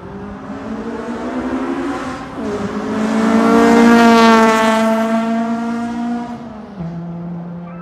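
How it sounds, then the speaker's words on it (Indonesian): Honda Civic Type R VTEC engine heard from inside a lightly insulated cabin, revving loud and close: the pitch climbs steadily to a shrill peak, then drops back with a gear change, and no one talks over it. "Dan suara tarikan VTEC-nya itu nagih banget sob."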